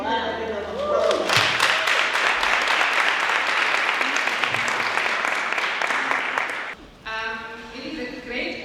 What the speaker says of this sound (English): Can you give them a round of applause?